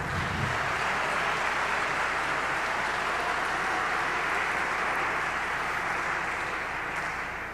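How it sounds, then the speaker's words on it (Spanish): Steady, dense applause from a congregation at a theological congress in Monterrey, a continuous wash of clapping that holds evenly for several seconds and tapers slightly at the end, heard from a distance with no voices on top. "Un aplauso."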